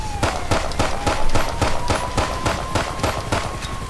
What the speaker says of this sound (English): I know people might have something to say about me shooting people's tires out